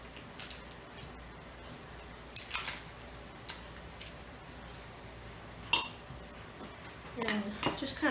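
A knife cuts cheese into pieces in a home kitchen while a Brussels sprout casserole is being made, giving scattered scraping clicks and a few sharper taps against a board or dish, some clustered near the end.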